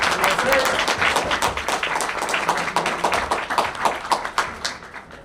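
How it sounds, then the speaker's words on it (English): An audience at a conference panel session claps loudly and steadily for the panelists, a dense sustained applause that thins slightly toward the end. "give a round of applause for these guys."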